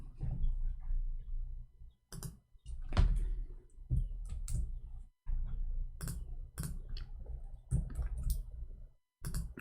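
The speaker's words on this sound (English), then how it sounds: "I'm typing in Arabic, hold on." Keyboard typing by someone entering Arabic text, irregular bursts of clicks and taps separated by short pauses, close and fairly loud.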